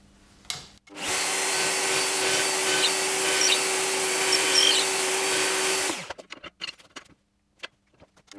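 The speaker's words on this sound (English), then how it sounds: "we just ripped through it with a drill" A power drill bores through Merbau timber in one continuous, loud, close grinding whine that lasts about five seconds and then cuts off, leaving scattered small knocks and handling noises.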